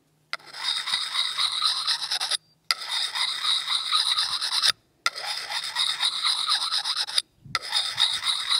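A blade being sharpened to work down a burr, four long, even rasping strokes close by, each a steady gritty scrape separated by brief silent pauses.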